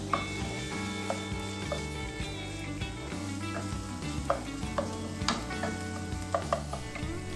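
Onions and red peppers fry with ginger garlic paste in a hot pan, a steady close sizzle with occasional stirring clicks and scrapes running throughout.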